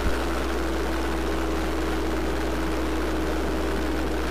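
A Midget Mustang light airplane in flight, its propeller engine droning steadily and loudly close by, an even unbroken roar with no voices.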